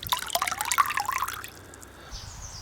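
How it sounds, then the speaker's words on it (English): Water sloshing and rattling inside an antique glass cod bottle being rinsed and shaken clean of cleaning powder, a burst of wet splashing and gurgling for about a second and a half, then fading to quiet dribbles, close and alone. "I'll just rinse out any of the stained water, give it a good shake up to get any of the Barkeeper's Friend powder out the bottom"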